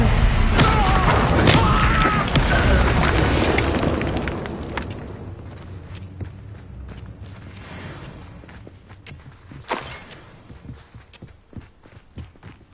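Incendio fire spell blasts in the video game Hogwarts Legacy: a loud, dense burst of booming fire and impacts that rumbles for several seconds, then fades into scattered thuds and clatter.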